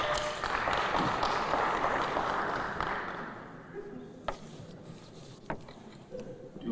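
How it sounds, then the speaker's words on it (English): Audience applause at a Flint mayoral debate, dense clapping that holds for a few seconds and then fades out, leaving a quieter room with a few isolated claps and knocks. "Hold your applause till the end."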